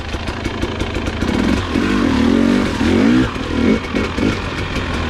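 A 2021 Husqvarna TX300i two-stroke dirt bike being ridden, its engine loud and close, revving and rising in pitch in repeated bursts with some clatter, no talk.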